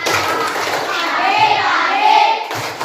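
Schoolchildren in an elementary classroom chant together while clapping in a routine, with rhythmic hand claps beneath their voices.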